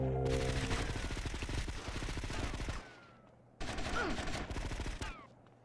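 Rapid automatic gunfire in GTA Vice City's final shootout: a long, loud burst, a brief lull, then a second sustained volley of close, rattling shots.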